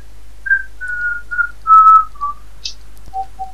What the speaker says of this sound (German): Könntest du mal aufhören zu pfeifen, das nervt.